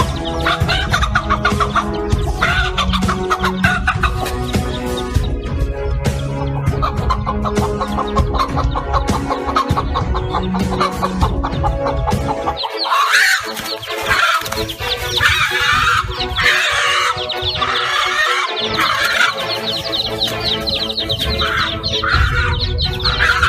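Chicken squaring off against an eagle, with loud clucking and squawking over musical backing and a sudden change partway through, when sharper, agitated bird cries take over.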